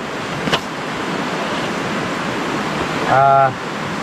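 The river at Malico campsite rushes steadily with broad, constant flowing noise close by, and a brief voice-like tone cuts through near the end.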